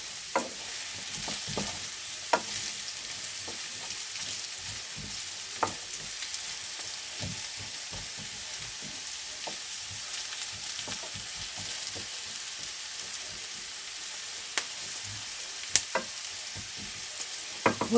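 Duck legs cook gently in a pan, giving a soft, even sizzle with scattered small pops and crackles throughout, close and unaccompanied by talk.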